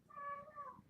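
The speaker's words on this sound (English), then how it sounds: "Meow. My cat." A pet cat gives a single short, faint meow indoors, a soft tonal call lasting under a second with no talking over it.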